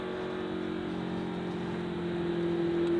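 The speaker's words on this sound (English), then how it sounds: "You hear the engine still running on that car." A race car's engine keeps running at Talladega during an ARCA General Tire 200 race, a steady droning hum with a sustained tone that grows slightly louder and brighter toward the end.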